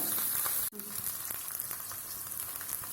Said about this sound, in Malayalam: കൊച്ചുള്ളിയും കൂടി ചതച്ചത് എണ്ണയിലിട്ട് കൊടുക്കാം.